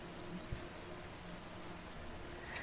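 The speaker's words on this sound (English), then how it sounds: "And the rain continues." Steady rain falling in the video game Heavy Rain, a faint continuous hiss of drops with one small thump near the start.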